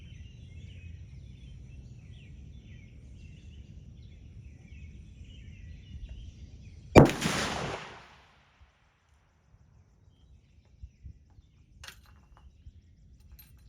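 A Westley Richards Model 1871 Martini rifle fires a single full-power round outdoors, one sharp loud blast that rings off and decays over about a second, with birdsong and insect chatter before it and near-silence after.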